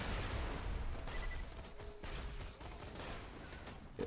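Shots from a slow-firing gun in Borderlands 2 Roguelands, heavy rumbling reports blending into a noisy battle backdrop with no clear talk.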